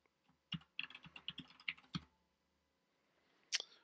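Quick keystrokes on a computer keyboard sound close and quiet as a username and password are typed, a burst of clicks followed by a pause and one final louder keypress.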